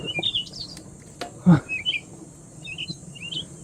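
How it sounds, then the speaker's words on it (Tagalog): Birds chirping and tweeting in short bright calls, scattered across a quiet outdoor background with a brief low thump. "Tsaka yung mga tunog ng ibon."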